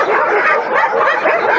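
Several dogs barking and yelping together in the raised enclosures of a dog shelter, a dense continuous chorus of overlapping barks close by.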